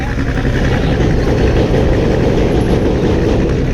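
A passenger launch engine running at a river launch ghat, a loud steady low rumbling drone that holds throughout, close by and without pauses.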